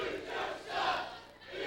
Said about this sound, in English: the crowd's having a hard time pronouncing the word shock